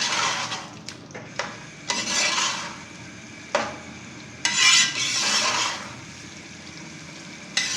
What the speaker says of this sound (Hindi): अब इसको भून लेते हैं ताकि इसका कच्चापन दूर हो जाए।